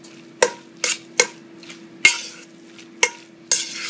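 Crab cake mixture for a cranberry herb crab cake is stirred in a bowl, with six distinct scraping, clattering strokes spaced roughly half a second apart, close and fairly loud over a faint steady hum.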